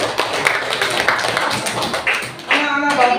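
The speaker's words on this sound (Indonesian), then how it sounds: "tepuk tangan untuk semuanya" Schoolchildren clap together in an Indonesian Islamic religious education classroom, a quick dense patter of many small hands that runs steadily for about three seconds, with a few voices mixed in.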